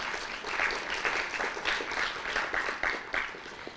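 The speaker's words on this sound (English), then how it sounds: "Let's give them a round of applause." An event audience applauds with sustained, dense clapping at a university launch event, loud and even throughout with no talk.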